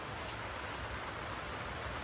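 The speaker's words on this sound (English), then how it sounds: "Yep, it's freaking raining." Steady, dense rain hissing down on surfaces nearby, a constant wash of noise with no pauses.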